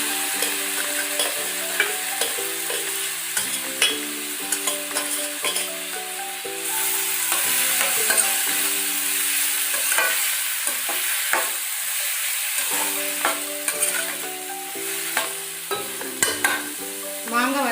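Raw mango pieces frying with popped mustard seeds crackle loudly and steadily in a pan, with frequent spoon scrapes and clinks against the metal as they are stirred, no voices.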